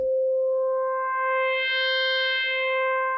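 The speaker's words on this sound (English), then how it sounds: "So this is a sine wave, and let's just listen to it." A steady, pure sine wave tone from an FM synthesizer (Korg Opsix) holds one pitch, with faint upper harmonics slowly fading in and out, loud and alone.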